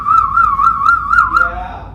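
A person whistles a wavering, trilling tune up close, loud and clear, ending with a brief falling note.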